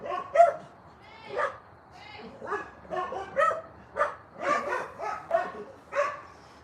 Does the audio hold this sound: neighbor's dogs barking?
yes